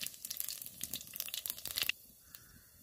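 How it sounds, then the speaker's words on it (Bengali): Dried chillies crackling in hot mustard oil in a pan, a dense close sizzle with sharp pops that stops abruptly near two seconds, leaving only a faint hiss. "তেল গরম হয়ে গেছে, দুটো শুকনো লঙ্কা দিয়ে দিলাম"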